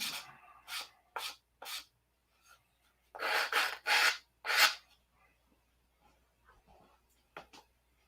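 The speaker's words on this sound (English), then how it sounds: "Time for hand sanding now," Bursts of rough scratching from hand sanding a P-47 model with sandpaper, several short strokes then a denser cluster, separated by quiet gaps.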